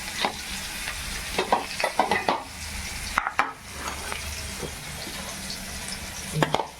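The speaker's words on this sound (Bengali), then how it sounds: "পেঁয়াজ ফোড়ন দিলাম, পেঁয়াজ দিলাম তেলের মধ্যে, একটু ভাজা ভাজা করে নিয়ে" Onions frying in oil in a pan, a steady sizzle close up, broken by repeated stirring scrapes and clinks in quick bursts, with no voices.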